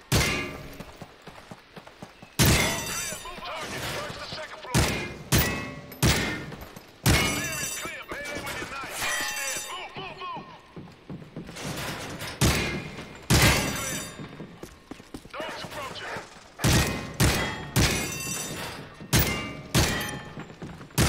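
Gunfire rings out on a Call of Duty Modern Warfare 3 training course, with loud, close shots in quick bursts and single cracks hitting targets, repeating across the clip with faint talk in places.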